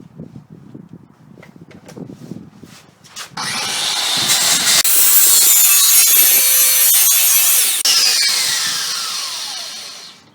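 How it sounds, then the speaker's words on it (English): A 5-inch angle grinder fitted with a slitting disc cuts into a steel propane cylinder, a loud, sustained high screech that follows a few seconds of quieter handling knocks and shifts in pitch as the cut goes on. "With the 5-inch grinder and a slitting disc"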